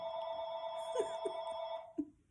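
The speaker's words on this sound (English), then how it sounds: "Phone." A telephone rings with an incoming call, a steady electronic bell-like tone sounding alone and continuously, with a few brighter struck accents before it cuts off.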